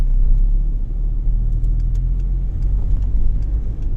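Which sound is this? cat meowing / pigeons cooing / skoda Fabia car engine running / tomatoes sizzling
skoda Fabia car engine running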